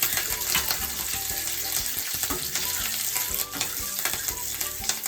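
Green chilies and curry leaves crackling in hot frying oil for a tomato gojju, a dense, bright sizzle with spattering pops, close and continuous.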